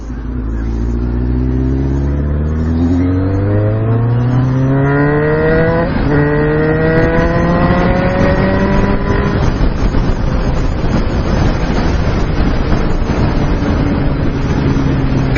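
Kawasaki Ninja ZX6R sport bike engine revving hard while riding, climbing through several gear shifts in a loud, close, rising whine under steady wind rush.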